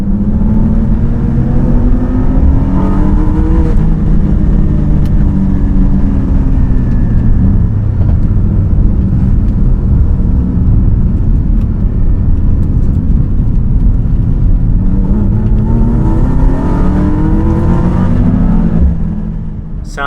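A 2021 Mercedes-AMG E63 S with a rumbling V8 drives a twisty road through a tight corner, a loud, continuous engine drone that rises and falls in pitch as it accelerates and eases off.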